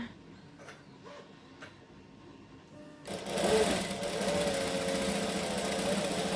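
A sewing machine starts up after a quiet pause and runs steadily, stitching a seam on a shirt with a close, loud, continuous mechanical whir and rapid needle clatter.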